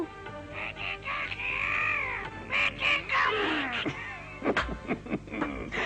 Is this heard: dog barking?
no